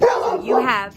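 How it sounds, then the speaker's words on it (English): A dog lets out a quick pair of sharp barks and a yip indoors, close and loud, while a person begins speaking. "sorry about the dog."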